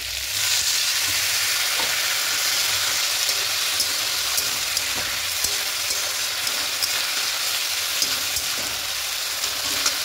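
Water poured into sizzling masala for a rohu fish curry made with radhuni paste sets off a loud, dense, continuous hiss and crackle that fills the whole stretch without pause.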